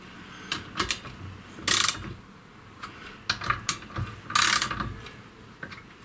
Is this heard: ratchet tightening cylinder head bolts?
yes